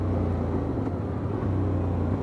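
A Hyosung GT250 twin-cylinder 250cc motorcycle engine runs with a steady low drone, continuous and fairly close, with an even idling rumble and no voices.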